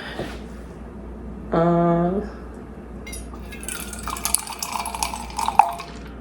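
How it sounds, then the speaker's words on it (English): Silk creamer pours into a cup of coffee in a short rising gurgle lasting under a second, followed by light clinks and kitchen clatter. "I'm gonna put the silk creamer in it."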